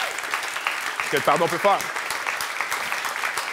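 A church congregation breaks into loud, continuous applause that fills the room, with a voice speaking briefly over the clapping.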